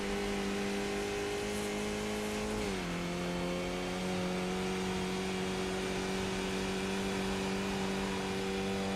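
A race car engine held at full throttle in iRacing, on cold tires, a steady high drone that dips briefly in pitch then settles flat again, loud and continuous with no voices.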